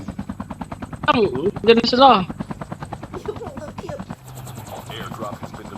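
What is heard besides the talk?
helicopter in the video game Call of Duty Mobile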